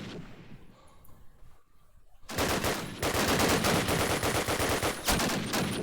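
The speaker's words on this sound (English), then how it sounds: "And taking down Angels with the headshot" Gunfire in a competitive World War shooter game match, beginning with a quieter lull, then a dense burst of rapid automatic fire and sharp shots that keeps going loud and close for several seconds.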